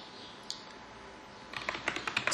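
A short burst of typing on a computer keyboard connected to a Raspberry Pi 3 Model B+, a single click followed by a quick run of close, crisp keystrokes, with no talking.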